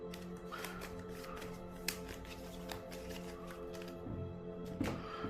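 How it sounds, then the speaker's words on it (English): Cards riffle and shuffle repeatedly in brisk papery bursts, close up, with occasional sharper taps as the deck is squared. "Let me shuffle these up."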